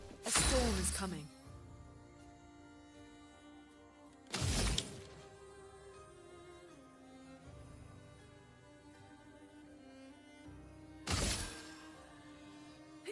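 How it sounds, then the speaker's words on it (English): Ice shattering in the video game Clair Obscur: Expedition 33, three sharp crashing bursts spread across the stretch over a background of game music. "Ice shatter."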